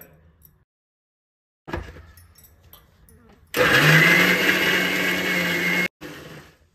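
A kitchen mixer grinder whirs loudly, blending two small tomatoes into a paste for a restaurant-style spicy chicken curry, running steadily for a couple of seconds after quieter handling noises, then stopping with a brief tail.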